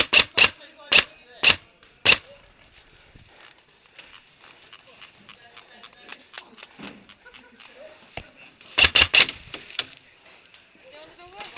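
Video game gunfire: loud bursts of sharp shots at the start and again near the end, with quieter clatter and faint background sounds between them.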